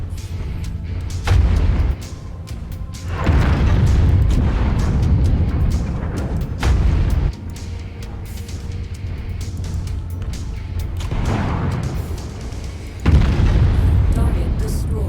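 Deep booming explosions of destroyed targets in MechWarrior 5: Mercenaries, several heavy blasts rolling out one after another over ongoing battle noise, with a voice speaking at times.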